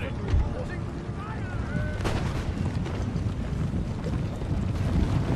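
Artillery cannons firing in the strategy game Empire: Total War, heard as a dense, continuous rumble of distant booms under wind-like noise, with no single sharp report standing out.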